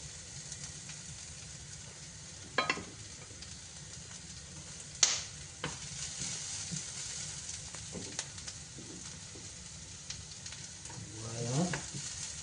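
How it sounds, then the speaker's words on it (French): Onions and chopped garlic cook in olive oil in a pan with a faint, steady sizzle. Occasional spatula scrapes and taps sit over it, quiet and close, with no voice. "Donc là, nos oignons sont en train de cuire."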